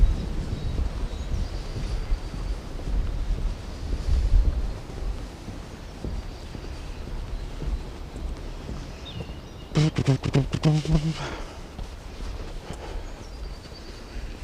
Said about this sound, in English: A little bit windy, but I can deal with that.